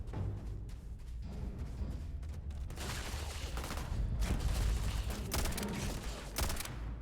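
Rapid automatic fire from a modified AK-style rifle in Starfield, fast crackling bursts that swell and fade across the stretch, with a voice faintly in the background.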